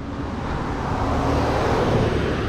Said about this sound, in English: this road here seems a little bit busy with the cars, traffic, I mean, going up and down